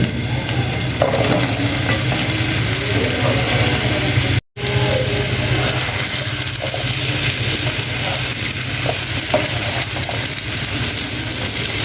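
Bottle gourd pieces frying and being stirred in spiced oil in a pan, a steady close sizzle with scraping stirs throughout, briefly cut off once midway.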